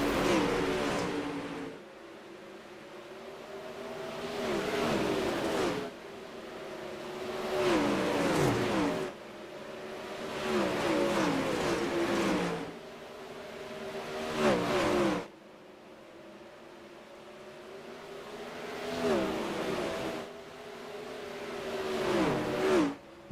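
Sprint race cars in an iRacing heat race roar past in repeated waves of engine revving, each car rising and fading as it passes, with rhythmic acceleration and a steady mid-pitched engine drone; no talk.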